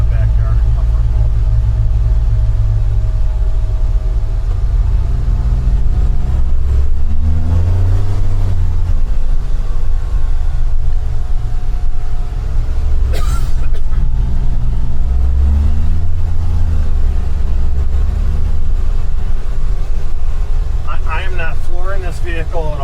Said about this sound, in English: it almost sounds like a diesel engine chugging